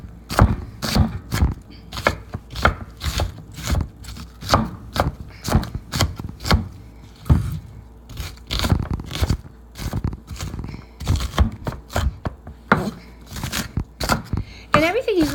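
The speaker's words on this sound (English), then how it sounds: "And then we'll chop this onion" A knife chops an onion on a board in brisk, uneven strokes, loud and close, with short pauses between bursts; a voice speaks at times.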